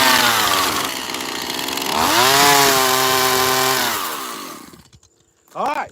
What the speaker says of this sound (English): No more chainsaw carving left of that.